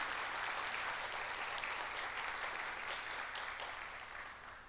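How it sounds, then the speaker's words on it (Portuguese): An audience at a public talk claps for a musician, a broad even wash of applause that holds steady and then slowly fades toward the end, heard at a distance and fairly quiet. "Uma salva de palmas também para o Paulo."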